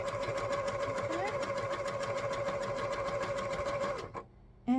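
Sewing machine stitching quilt squares for a Bargello block, a fast steady mechanical whirring hum with rapid needle ticks, close, stopping abruptly near the end.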